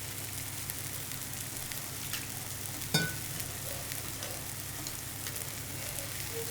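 Ingredients for a tamarind curry sauté in a pan with little oil, a constant soft sizzle with a brief sharp clink of stirring partway through, no talk.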